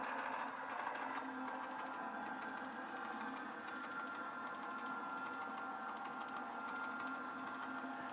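A GO! Bolt electric fabric cutter runs steadily, slicing fabric strips on a mat, giving a continuous mechanical hum and whir at a constant level with no talk.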